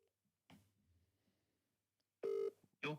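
A phone call rings out on the line before reaching voicemail, with a burst of ringback tone around the middle and end, faint clicks between, and a low muffled rumble early on.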